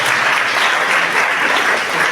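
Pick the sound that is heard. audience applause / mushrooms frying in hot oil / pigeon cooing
audience applause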